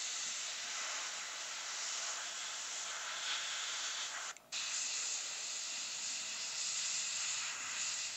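An airbrush sprays paint onto a Predator Elder head sculpture as a steady, close, continuous hiss that cuts out for a split second midway and then resumes, with no talking.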